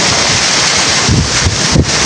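Strong wind roars and buffets a microphone continuously, with heavier gusts pushing through near the end, as rain begins.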